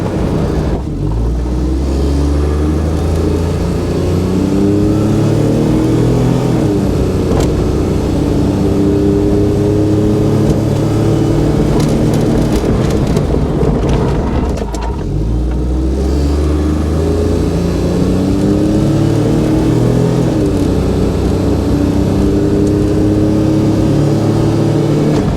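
A kei van engine pulls at full throttle with the pedal flat, revving up through repeated rising sweeps as it accelerates toward highway speed, loud and close from inside the cabin with road and wind noise underneath.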